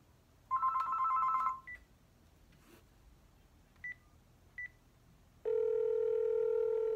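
A telephone dials out for a cold call: a short burst of dial tone, several brief touch-tone beeps, then a steady ringback tone begins near the end, quiet background otherwise.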